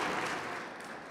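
Faint audience applause at a Catholic Eucharistic Congress talk, a brief, distant, even patter of clapping that fades slightly over about a second.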